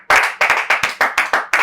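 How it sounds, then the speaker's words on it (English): Sharp hand claps in a steady, quick rhythm, about eight close, loud claps in under two seconds, with no other sound between them. "Clap for the man."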